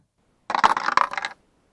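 Dice are rolled, a brief rattling clatter of several small tumbling impacts lasting under a second, close and alone.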